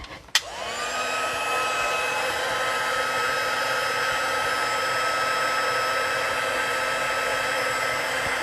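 An electric heat tool switches on with a click, then blows hot air in a steady, loud, continuous whine while drying puffy paint on a stamped paper craft project.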